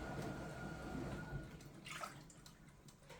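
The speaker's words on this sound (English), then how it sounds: "now in our saucepan we're going to put our half a cup of milk" Half a cup of milk poured into a saucepan on a stove, a soft, faint liquid trickle and splash lasting a few seconds, heard alone.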